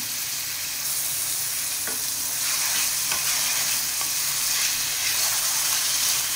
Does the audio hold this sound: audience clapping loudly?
no